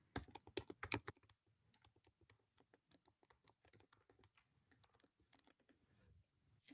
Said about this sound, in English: I can type correctly